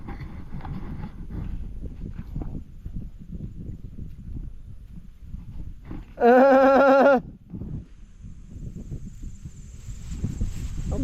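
A horse whinnies once in a loud, wavering neigh lasting about a second, heard among soft hoof clops and rustling outdoors, with crickets chirping faintly.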